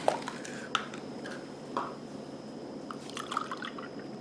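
Whole milk is poured into pumpkin pudding mix, giving soft, close liquid splashes and drips at an irregular pace over a faint steady background, with no talking.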